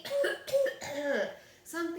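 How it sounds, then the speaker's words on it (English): Several dry, throaty coughs in quick succession from a nearby voice, followed by a short vocal sound, loud and close with brief pauses between bursts. "Mother Silly coughed and coughed"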